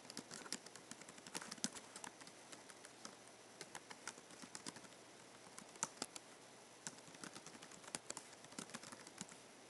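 Someone types an email address and password on a computer keyboard, producing quiet, irregular clicky keystrokes in short bursts with small pauses, close and faint in a still room.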